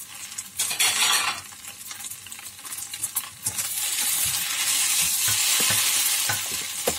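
Vegetarian wide rice noodles stir-fried in a pan, with steady broadband sizzling and repeated scraping and clinking of a utensil against the pan, close and fairly loud, building to a continuous hiss in the second half.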